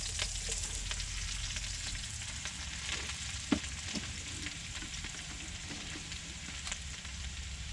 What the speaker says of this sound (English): Now we've got a sizzle on.